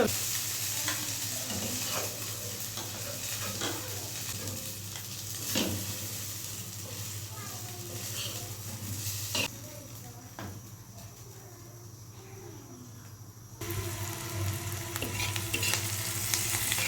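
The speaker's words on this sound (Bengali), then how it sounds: "আমি চিংড়ি মাছগুলো ভাজা রাখছি" Shrimp frying in a pan, a steady close sizzle with occasional stirring scrapes, continuous throughout, with someone talking quietly over it.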